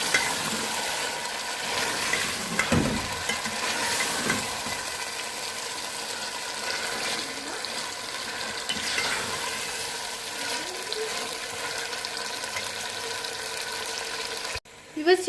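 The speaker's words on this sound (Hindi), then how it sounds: "तो अब हम इसमें चिकन को ऐड करेंगे और चिकन को हम अच्छी तरह से भूनेंगे।" Chicken pieces frying in a pan for white chicken korma, with a steady close sizzle and occasional stirring scrapes throughout, briefly cutting out near the end.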